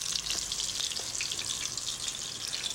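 Veal cutlets for veal Milanese fry one at a time in hot oil, giving a steady, close, bright sizzle with small pops that runs unbroken throughout.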